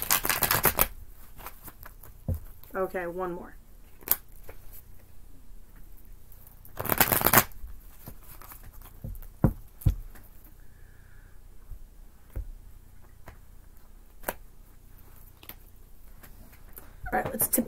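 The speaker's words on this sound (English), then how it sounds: "One more good shuffle." Tarot cards being shuffled in quick riffling bursts, close by, with a person speaking briefly and quiet pauses between shuffles.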